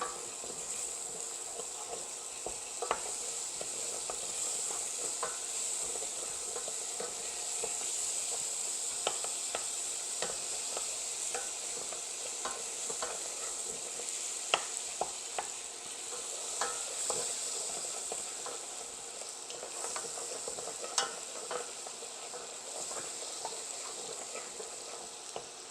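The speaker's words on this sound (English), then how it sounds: "So I'm going to add 40 milliliters or 3 tablespoons of butter to the pot and let it melt." Butter melting in a pot on the stove for New England clam chowder, giving a soft, steady sizzle with scattered faint pops and crackles throughout, close and fairly quiet with no talking.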